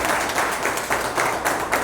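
Audience applause at a seminar-style program in Rosera, a steady wash of many hands clapping throughout, fairly loud and continuous with no speech over it.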